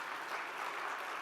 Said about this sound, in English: I think it deserves an extremely resounding sound of applause